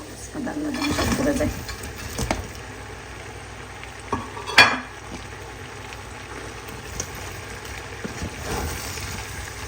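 Hilsa fish fry in a pan with green chillies and onion, a steady close sizzle punctuated by occasional clinks and scrapes of a utensil against the pan.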